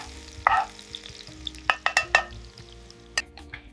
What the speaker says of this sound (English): Now heat your palm oil and fry some chopped onions.